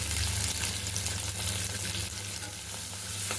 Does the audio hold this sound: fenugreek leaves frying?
yes